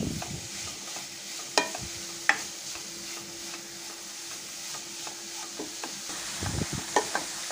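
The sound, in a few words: stirring carrot halwa sautéing in ghee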